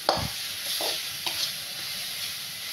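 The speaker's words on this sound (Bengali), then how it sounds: "দেখুন, আমার মশলা কষানো প্রায় হয়ে যাচ্ছে।" Spice paste frying in a pan, a continuous bright sizzle with a few soft stirring scrapes and knocks of a spoon, heard alone without voices.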